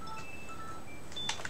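Mobile phone notification beeps sound near and loud, a quick cluster of short bright electronic tones arriving late in a brief quiet stretch with no talking.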